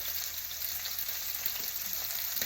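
Steak frying in oil in a pan, a steady, loud, close hissing sizzle with faint crackles throughout and no voices.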